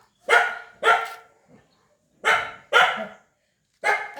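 Dogs barking nearby in loud paired bursts, two quick woofs then a pause, repeating three times, clear and close with no talk over them.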